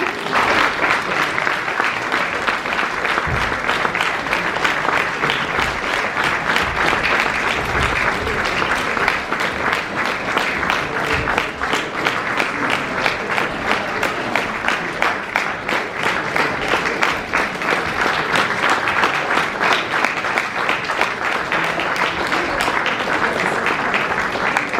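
Sustained audience applause at a Caritas charity concert in Rovte, steady dense clapping filling the hall throughout, loud and continuous without pause.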